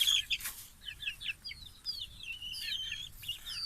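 Chickens cluck softly in a henhouse made from an old 200-litre drum and bedded with straw, with short, quiet bursts of clucking scattered across the moment and no talking.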